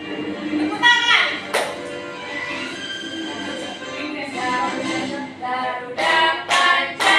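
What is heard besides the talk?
children clapping hands in class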